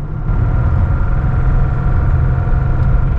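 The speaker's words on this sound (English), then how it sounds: "That is Rod Knock." A car engine with rod knock runs close by, a loud, steady low rumble with a rapid rhythmic knocking pulse throughout its few seconds, and no talking.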